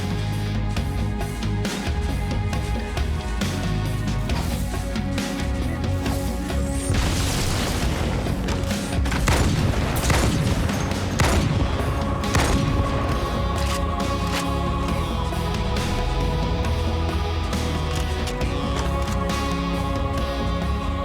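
SMG gunfire in Halo 2 comes in loud, rapid automatic bursts mixed with booming explosions and game music, a dense, continuous barrage throughout.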